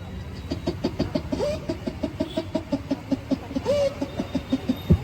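A man imitates a rooster crowing with his mouth, with two rising crow-like calls over a steady rhythmic clucking-like pulse from a mimicry performer, loud and close with no other talk.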